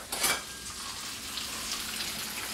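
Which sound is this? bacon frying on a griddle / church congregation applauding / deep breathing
bacon frying on a griddle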